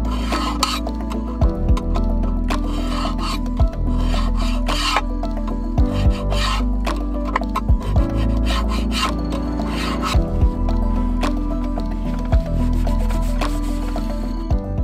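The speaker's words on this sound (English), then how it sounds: "I also use some degreaser to clean up the valve cover a little bit." Rag or brush scrubbing a car valve cover with degreaser, a repetitive close rubbing and rasping with occasional light clinks, heard alone.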